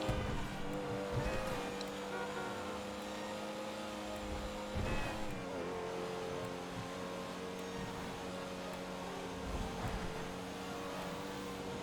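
A car driving in GTA V Online, a steady engine drone with shifting revs and a few pitch sweeps, continuous and moderately loud with no voices.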